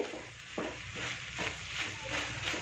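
Okra sautés in oil for a tamarind curry, a soft steady sizzle with periodic stirring scrapes every half second or so, fairly quiet and close, with no voices.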